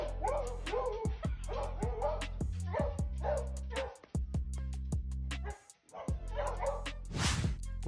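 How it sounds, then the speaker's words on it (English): A dog watching horse racing gives excited barks, yips and whimpers in several close bursts, with faint broadcast sound in the background. "This dog loves watching horse racing."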